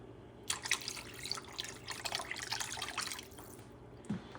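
Water pours steadily into a pot of Puerto Rican pork stew, a close, bright splashing stream running for a few seconds before tapering off, with no voices.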